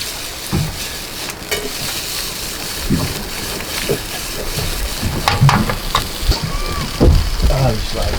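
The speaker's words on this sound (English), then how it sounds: "We got the sizzle." Food sizzles and crackles steadily on a hot surface, with scattered clinks and stirring noises and some faint voices in the background.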